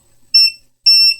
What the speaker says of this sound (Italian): qua lo possiamo fare in continuità, quindi con il bip